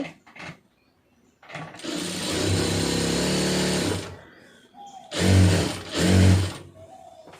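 A sewing machine stitches a cigarette pant: one long steady run of rapid stitching, then two short loud bursts with brief pauses between.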